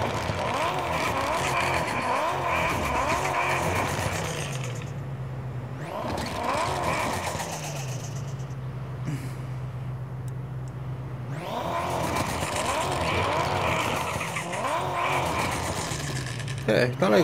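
V8 car in Car Parking Multiplayer skidding on the handbrake, with long loud tire screeches and engine roar in repeated bursts, a brief quieter gap in the middle, under talk.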